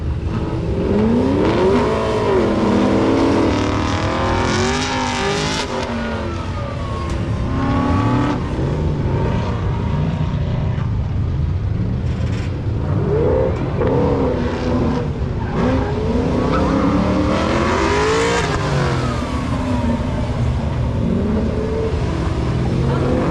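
Two Camaros race each other at an autocross at Beech Bend Raceway Park, loud engines revving and accelerating hard, with tire squeal and skidding as they sweep near through the course, no voices.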